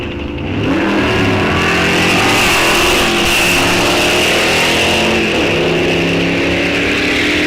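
A Chevrolet Bel Air 409 drag races down the strip at Rock Falls Raceway, its engine roaring loud and close in a sustained rising wail under hard acceleration, with no talk over it.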